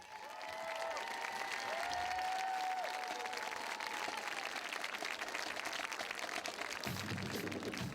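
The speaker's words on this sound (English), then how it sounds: "we'll give them a nice round of applause" Crowd in stadium stands applauds band directors at a high school football game, a steady wash of distant clapping for several seconds, while a band instrument holds sustained tones under it and a voice enters near the end.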